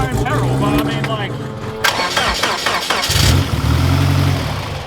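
A Lexus car engine cranks and catches, then settles into a steady mid-pitched idle, heard up close while people talk over it.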